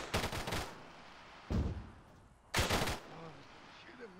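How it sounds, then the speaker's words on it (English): Machine gun fire in the military video game ARMA 3: three loud, dense bursts of rapid automatic shots separated by short pauses, up close. "Whoever's on the machine guns was coming in too high."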